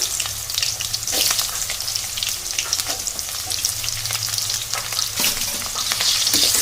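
Thinly sliced onions, about a hundred grams, sizzle steadily in hot oil for a biryani, with loud continuous crackling and occasional scraping of a stirring utensil against the pan.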